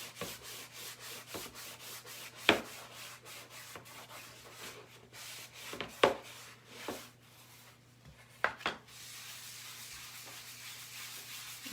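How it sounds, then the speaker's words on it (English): Paste is rubbed firmly into a wooden surface by hand, giving close, soft scrubbing strokes in an uneven rhythm, with a few sharper scrapes and knocks. "Rub that in pretty good. I really want to season that wood."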